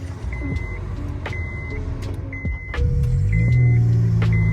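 A modified Honda Accord with a push-button start conversion, showing several short electronic chimes and clicks, then the engine cranking and catching into a steady, loud idle rumble close by.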